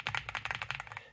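Quick, even typing on an Epomaker x Feker Galaxy 80 mechanical keyboard with stock factory-lubed switches, about a dozen crisp, close clacks in rapid succession, fairly quiet and alone.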